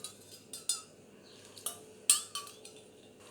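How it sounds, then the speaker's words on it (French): A spoon stirs a homemade soap mixture in a bowl, giving a series of light, sharp clinks and scrapes spaced irregularly, close and fairly quiet, with no voices. "Allez, et on remue."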